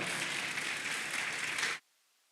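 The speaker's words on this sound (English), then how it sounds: "Give her a round of applause." Audience applause at an ICT club conference, a dense steady burst of clapping that cuts off abruptly into quiet.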